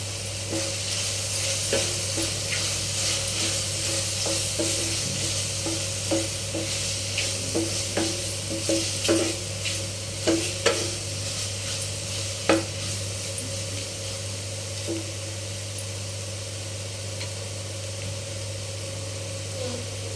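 Mushroom curry sizzling in a frying pan as chili powder is stirred in, with steady frying hiss and repeated scraping stir strokes, close and moderately loud, no talking.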